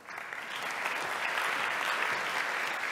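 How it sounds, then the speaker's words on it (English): Sustained applause from an audience at a university academic ceremony marking an anniversary, steady and dense for the full duration without speech. "we would like to recognize them with a big applause"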